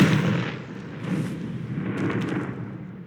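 A Confringo fire spell goes off in Hogwarts Legacy with a heavy booming blast, followed by a rumbling, crackling tail and a couple of softer thuds.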